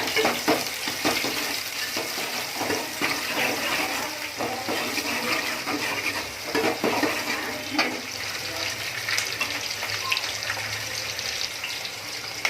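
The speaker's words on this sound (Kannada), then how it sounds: "ಚೆನ್ನಾಗಿ ಫ್ರೈ ಮಾಡ್ಕೊಳ್ಳಿ ಈರುಳ್ಳಿನ" Sliced onions frying in hot oil in a home kitchen for mutton gravy, a steady loud crackling sizzle with a stirring scrape running throughout, no voices.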